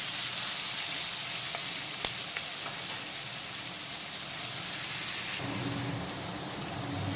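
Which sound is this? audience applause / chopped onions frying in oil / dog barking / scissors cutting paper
chopped onions frying in oil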